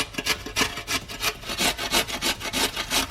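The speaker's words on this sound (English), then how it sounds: "last but not least we grate the carrots" Carrots rasp against a grater in quick, regular back-and-forth strokes, close up and steady, about a dozen scrapes with no talking.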